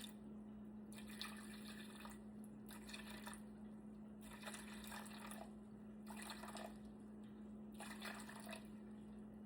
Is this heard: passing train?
no